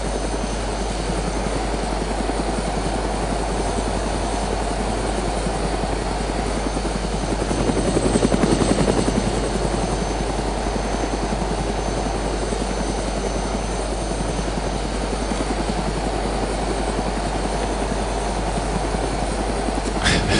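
Helicopter rotor noise from the video game DayZ drones loudly and continuously, a dense thrumming engine wash that swells briefly midway, with no talk over it.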